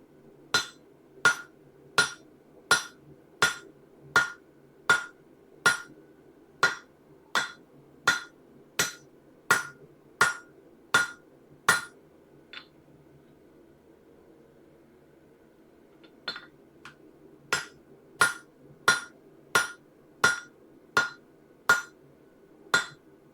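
A hammer strikes hot steel round bar at an anvil while forging an axe head, about twenty ringing, evenly spaced blows in two runs separated by a quiet pause of a few seconds.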